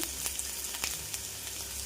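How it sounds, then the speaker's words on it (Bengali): Whole spices, chopped ginger, garlic and onion fry together in oil with a soft, steady sizzle, broken by a few faint clicks of stirring. "সবগুলো একসঙ্গে আমি লাল লাল করে ভেজে নেব"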